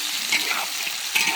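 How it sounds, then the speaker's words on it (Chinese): Chicken pieces hit hot rapeseed oil in a wok over high heat for Guizhou spicy chicken, giving a loud, steady sizzle with bursts of stirring and spattering throughout. "鸡下锅。"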